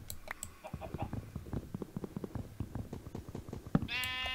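A sheep bleats in the video game Minecraft, one short bleat near the end following a quick run of rhythmic block-digging taps.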